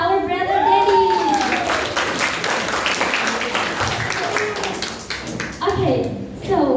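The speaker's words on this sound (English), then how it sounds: "Give applause to our brother Daddy." Audience applause for a speaker at a speech event, dense steady clapping from many hands with background voices briefly audible, fairly loud throughout.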